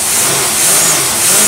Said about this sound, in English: I'm not going to rev it up some more. It's going to pop.